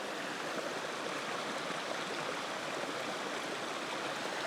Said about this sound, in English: Lovely little cascade and some water flowing over the stones.